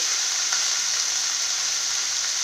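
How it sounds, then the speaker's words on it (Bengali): Chopped garlic and radish greens frying together in a pan give a steady, close, even sizzle with a faint crackle, unbroken from start to finish. "দেখো রসুনটাও খুব সুন্দর ভাজা হয়ে গেছে এবারে আমি সব একসঙ্গে মিশিয়ে দিই"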